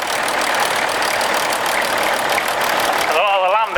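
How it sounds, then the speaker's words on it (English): A little Fordson Standard tractor engine runs steadily at a steam rally, its loud rough mechanical chug continuous throughout, with crowd noise and a brief warbling tone near the end. "now we have the little standard Fordson tractor"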